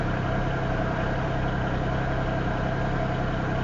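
A Norfolk Southern diesel locomotive idles nearby with a steady, loud, low engine rumble and no pauses, sitting beside a Union Pacific stack train near Elkhart, Iowa.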